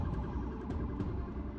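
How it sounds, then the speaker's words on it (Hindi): Police truck siren during a street protest, a loud, continuous wailing, warbling tone heard close and filling the short moment, with no talk over it. "इसी दौरान पुलिस का एक और ट्रक सायरन बजाता हुआ भीड़ में घुसता नजर आया।"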